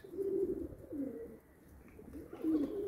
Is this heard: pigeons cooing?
yes